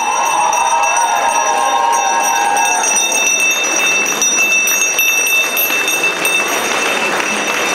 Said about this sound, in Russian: Для ребят прозвучал их последний школьный звонок.